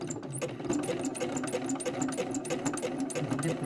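A sewing machine stitches a fabric journal cover at slow speed, giving a close, steady rhythmic whirring and clacking with no talk.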